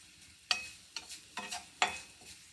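Mustard seeds drop into hot oil with browned garlic in a pan, giving a few sharp crackling bursts and spitting pops spaced about half a second apart over a faint steady sizzle, close and fairly quiet with no talking.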